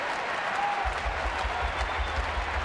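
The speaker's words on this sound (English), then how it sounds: "This crowd's getting into it now" Crowd at a Dodgers at Diamondbacks night baseball game applauding and cheering, a broad steady wash of clapping that swells and holds throughout, with faint commentary underneath.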